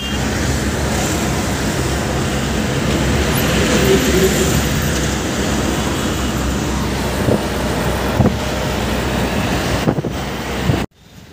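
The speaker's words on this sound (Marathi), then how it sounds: "मित्रांनो ट्रॅफिक बघा, राईट साईडला स्टेशन आहे कुर्ला स्टेशन" Heavy road traffic rolls past near Kurla station in Mumbai, a dense, steady roar of engines and wind buffeting the microphone, continuous and loud until a sudden cut at the end.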